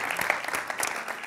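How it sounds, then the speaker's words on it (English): Brief burst of audience applause for spelling contestants Kate and Jonas at a literary competition show, a short scattered clapping texture of moderate loudness. "give a warm round of applause for Kate"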